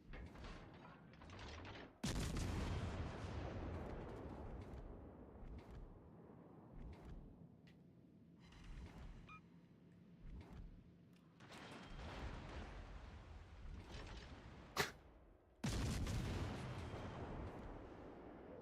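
Battleship gunfire in a naval video game, with heavy booming salvos and rumbling blasts at several points and lower mechanical rumble between them.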